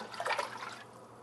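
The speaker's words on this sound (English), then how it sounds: "I have some stock, so I'm just going to pour that in." Stock poured from a container into jollof sauce in a cooking pot, a soft brief liquid splash and trickle, quiet and close, fading after about a second.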